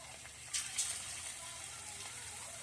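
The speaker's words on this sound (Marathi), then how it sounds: "हे तळून घ्यायचं आहे आता हे मी तेलात सोडून दाखवते तुम्हाला" Chicken 65 pieces coated from a spice packet frying in hot oil on a medium-low gas flame give a steady soft sizzle with a couple of brief crackling pops.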